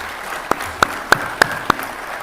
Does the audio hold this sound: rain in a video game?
no